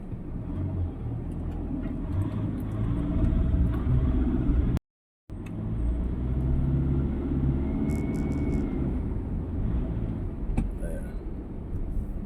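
Road traffic on Katipunan in the Philippines, with car engines rumbling steadily and close, a continuous low drone that cuts out for a moment partway through, with no talking.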